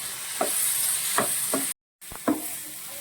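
Beef with kanthari chillies deep roasting in a pan, a steady close sizzle with several distinct knocks and scrapes of stirring, briefly cut to silence midway, no talk.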